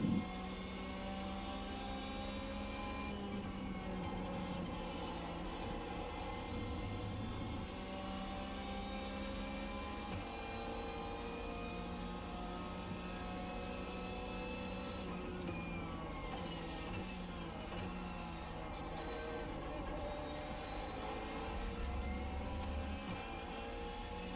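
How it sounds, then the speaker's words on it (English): A race car engine in the iRacing sim game drones loud and steady throughout, its pitch rising and falling as the throttle is worked mid-corner and out onto the exit, with no talking. "Just playing with the throttle there, trying to get the power down mid-corner to the exit."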